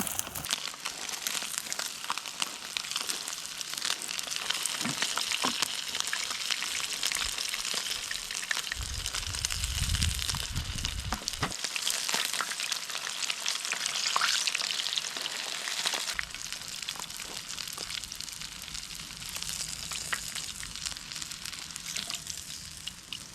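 Large bullfrog legs, about drumstick size, fry in hot oil with a dense, steady crackling sizzle that stays close and even throughout, with a low rumble underneath and no talking.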